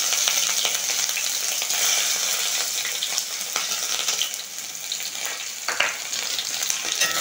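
Chopped onions fry with bay leaf, cumin and dried chillies in hot oil, a bright close sizzle with scraping stirs and a few sharp clinks, no talking.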